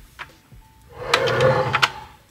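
A makeup drawer slides open or shut with a soft rumbling scrape lasting about a second, close by and moderately loud, with light knocks of its contents.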